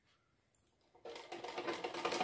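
A sewing machine stitching a thin round cord starts up after a few faint handling clicks, then runs in a quick, steady, close rattling stitch for the last second or so.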